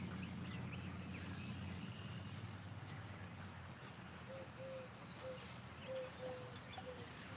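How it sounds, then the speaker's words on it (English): Soft repeated cooing of doves, faint and a little distant, over a steady low background rumble with no talking. "I hear the doves."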